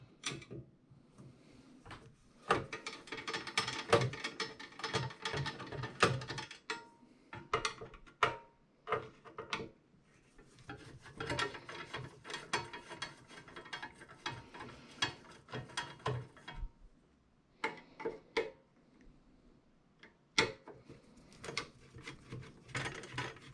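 Screws are loosened from the top shroud of an Ampeg SVT II Non-Pro bass amplifier, giving close, irregular metallic clicks, ratcheting turns and scrapes in uneven bursts separated by short pauses.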